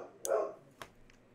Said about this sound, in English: Listen to that dog.